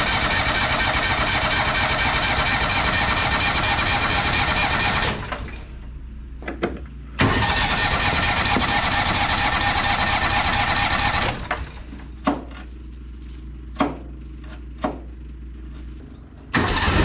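A John Deere Gator engine cranks on choke and catches, running loud and rough for several seconds, cutting out, then revving again before dropping off, with a few clunks and taps in the quieter gaps.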